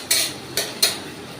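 A metal lid is set onto a cooking pot of Maggi noodles with three sharp clinks: one, then a pause, then two more in quick succession, close and fairly crisp in a quiet kitchen.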